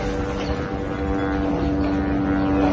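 A drone flies overhead at a refugee camp, giving a steady droning motor hum with a constant whine that carries on evenly for a few seconds without speech.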